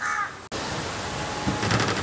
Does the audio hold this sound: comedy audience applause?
no